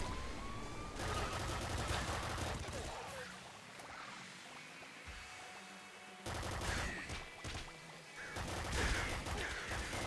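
Rapid bursts of golden-gun fire in the video game Nuclear Throne, dense crackling shots in two loud stretches with a quieter gap between, mixed with game effects.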